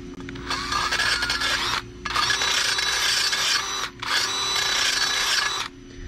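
A drill-powered mower blade sharpener grinds against a steel mower blade in three long, loud, steady bursts, each a harsh whirring rasp, separated by brief pauses.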